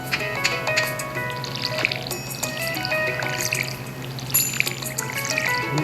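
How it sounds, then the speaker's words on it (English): Watering crops with a watering can in the Stardew Valley farming video game: a steady run of soft splashing and dripping water sounds plays under bright game music and chimes, close and continuous throughout. "water my crops"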